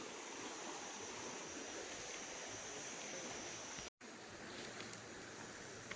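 Forest river rushing over exposed tree roots, a steady broadband wash of flowing water that stays loud and constant, broken by one brief dropout.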